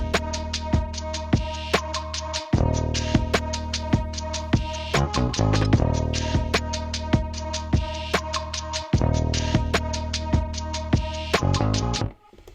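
A grimey 90s hip hop beat made on a Maschine MK3 plays loud, with punchy drum hits and deep bass under a repeating synth line, and the drums drop out briefly twice before the loop cuts off.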